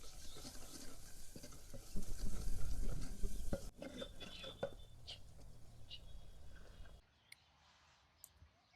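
Masala for a curd okra curry frying and being stirred in a pan, with scraping stirs and soft sizzling, a louder burst of stirring midway, then quieter frying that fades out near the end.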